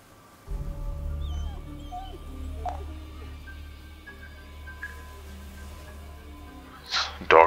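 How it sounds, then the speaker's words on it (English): A dog in the Ghostwire: Tokyo video game gives whimpers and yips at a moderate distance, with game ambience underneath. "I can hear him barking."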